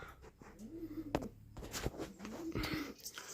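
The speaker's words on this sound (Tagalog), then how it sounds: "Ayan na siya oh. Yung white feather mga kalapatids." A white-feathered racing pigeon arrives at its loft after a 130 km race from Gerona, Tarlac: soft cooing and brief wing flaps and shuffles come from nearby, set against quiet outdoor background.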